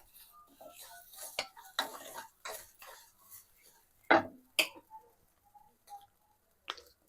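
Rock salt dry-roasts in a pan as scattered grains rattle and a spoon clinks against the metal in sharp, irregular taps, fairly quiet and close, with faint voices in between.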